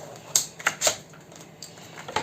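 A paper strip being cut at 20 cm for a scrapbook album, heard as a few sharp, close clicks and snips spaced across a couple of seconds.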